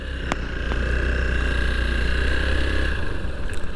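A parked motorcycle idles at a roadside rest stop with a steady, low, throbbing engine rumble that holds even throughout, with a couple of faint clicks and no talking.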